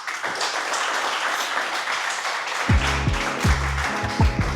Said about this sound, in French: est-ce qu'on peut donner une bonne applaudissement à Uber côté?